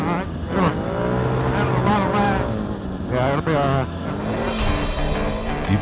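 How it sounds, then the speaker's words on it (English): Can-Am Maverick Turbo side-by-side engine revving hard during a Vegas-to-Reno off-road race, loud and close, with rising and falling pitch sweeps as it accelerates through gears and voices talking over the noise. "Even though Mr. Mal's Can-Am Maverick Turbo is slow to accelerate, it still hits top speeds."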